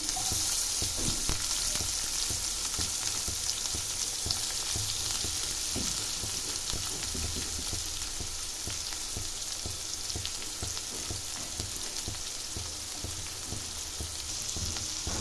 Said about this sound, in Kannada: ಕರ್ಬೇವಿನ ಸೊಪ್ಪು ಹಾಕ್ಕೊತಾ ಇದ್ದೀನಿ ಇದನ್ನೆಲ್ಲ ಫ್ರೈ ಮಾಡ್ಕೊಳ್ಳೋಣ